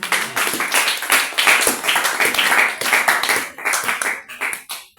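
A church congregation claps and applauds together, a dense burst of many hands close by, loud and sustained for several seconds before tapering off at the end.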